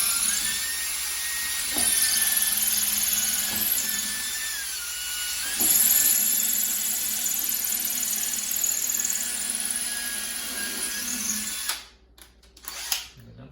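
A power drill bores a hole for a kitchen cabinet knob, guided straight by a jig; a loud sustained high whine runs for about twelve seconds with slight pitch dips as the bit cuts, then stops abruptly.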